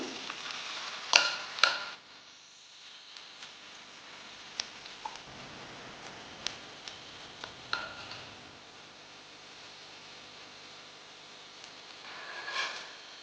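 Marinated potato, broccoli and egg frying in a hot pan: a sharp burst of sizzle and clatter as food goes in, then a quieter steady hiss with scattered ticks and pops, swelling again near the end.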